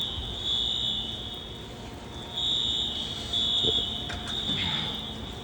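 A fire alarm in an apartment building keeps blaring as a steady, piercing electronic tone in repeated long bursts. Faint knocks and rustles sound beneath it and no one speaks.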